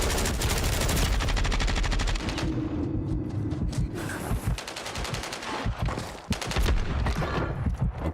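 Rapid, loud bursts of gunfire rattle in Warzone, fast repeated shots in tight strings with a brief pause midway before another volley.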